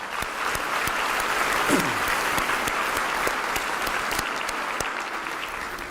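An audience at a school district's State of the District address applauds in a steady, sustained roar of clapping, with a few sharper individual claps standing out near the front.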